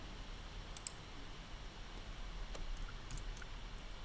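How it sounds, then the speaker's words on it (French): A few sharp, faint computer mouse clicks, spaced irregularly, sit over a quiet room hiss with no voices. "Il faut cliquer sur OK."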